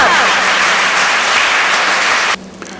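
Audience applause greets a guest invited onto the stage at a children's academy function in Pakistan: dense, loud clapping from a hall crowd that holds steady, then cuts off abruptly near the end.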